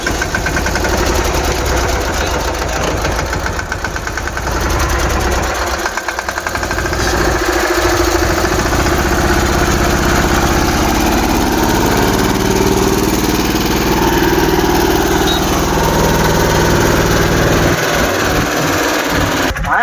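A tractor engine runs loud and close, a continuous steady chugging drone with a rough mechanical rattle that holds for around twenty seconds without pause.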